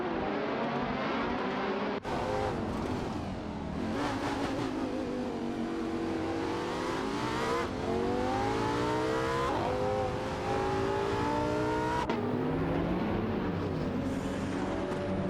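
Race cars, including a McLaren 720S and Mirage GT machines, roar through a video game race, engines loud and close, with pitch sweeping up and down through gear changes and abrupt cuts between cars.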